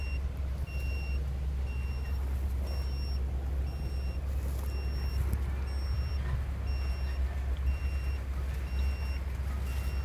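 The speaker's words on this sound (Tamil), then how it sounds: "இது 5 நிமிஷத்துக்கு ஒரு லாரி போயிட்டுருக்கு." A lorry hauling M-sand and boulders rumbles steadily nearby, with a low engine drone throughout and evenly spaced reversing beeps sounding at regular intervals above it.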